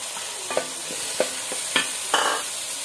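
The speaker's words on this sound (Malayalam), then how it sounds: "ഞാൻ രണ്ട് വലിയ തക്കാളി ചെറുതായി കട്ട് ചെയ്ത് വെച്ചിരിക്കുന്നതാണ് ഇതും കൂടെ ഞാൻ ഇതിലോട്ട് ഇട്ട് കൊടുക്കുന്നുണ്ട്" Chopped tomatoes tumble into a hot pan for tomato rice, bringing a steady sizzle of frying with four distinct stirring scrapes spaced through the clip, close and moderately loud, no voices.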